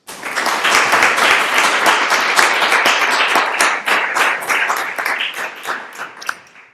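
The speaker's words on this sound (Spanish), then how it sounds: "aplauso para él" An audience at a lecture gives a sustained round of dense clapping, loud and even for several seconds before tapering off near the end.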